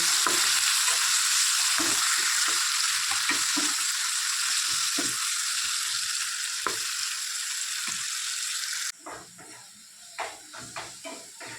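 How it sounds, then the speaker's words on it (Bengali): Capsicum and tomato for a vegetarian chhana curry sizzle loudly in a hot pan while being stirred, a dense, continuous hiss punctuated by spatula scrapes that drops off sharply near the end, leaving quieter stirring. "এই ক্যাপসিকাম আর টমেটো একটু নাড়াচাড়া করবো।"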